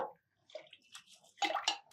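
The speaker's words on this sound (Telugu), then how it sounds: "బియ్యం పెసరపప్పు 2 కడిగేసి పోసేయండి" Rice and split moong dal being washed in water for sweet pongal, with soft sloshing and splashing bursts that get louder toward the end, close up and without talk.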